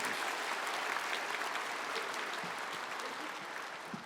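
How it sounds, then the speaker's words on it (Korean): Steady applause from a church congregation before a baptism, a dense even patter of many hands clapping that holds for several seconds before easing slightly. "나오실 때 우리 박수로 환영하겠습니다."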